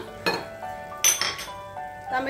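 A metal tambya water pot clanks and clinks as it is picked up and handled in a kitchen, giving a few sharp ringing knocks between moments of quiet, close by.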